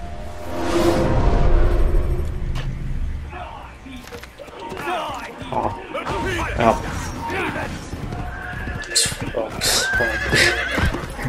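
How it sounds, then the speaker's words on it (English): A horse whinnies loudly in the Assassin's Creed video game, followed by clattering hoof clip-clop and scattered game sounds, with a voice talking over much of it. "What was that horse?"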